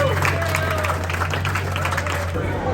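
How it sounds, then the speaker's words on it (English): Applause and cheering from a crowd at an illegal street drifting meet, steady clapping with voices mixed in over a constant low hum, carrying through the whole moment. "We'll get a round of applause."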